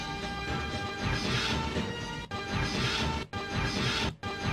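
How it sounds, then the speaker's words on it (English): Glass shattering in the Nintendo 64 game GoldenEye 007 on the Aztec level, a loud, full crash sustained throughout, broken by three brief dips. "So hearing that glass opening sound is like, oh, you know the run."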